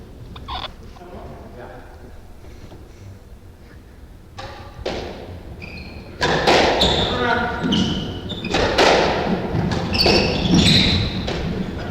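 Squash ball struck in a boast off the front left wall during a 1998 men's 30+ world doubles match, with sharp ball thuds and racquet smacks echoing in the court under a commentator's talk and crowd noise.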